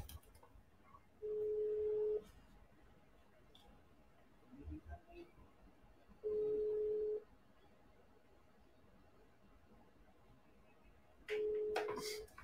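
Repeated phone ringback tone during an outgoing call, with three steady beeps spaced about five seconds apart over quiet room noise and brief chatter.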